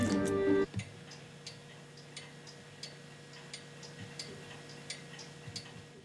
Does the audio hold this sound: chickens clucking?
no